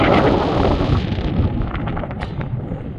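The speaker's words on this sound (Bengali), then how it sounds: "এই রাস্তাটা দিয়ে আমরা আসলাম, প্রচন্ড ঠান্ডা হাওয়া দিচ্ছে।" Strong cold wind gusts across an open mountain valley at Thakum on the Sandakphu trek, a loud, steady broadband roar buffeting the microphone throughout, with no one talking.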